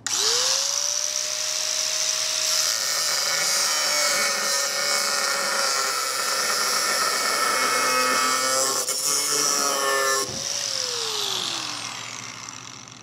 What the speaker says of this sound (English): Now let's see if this grinder can cut through this threaded rod.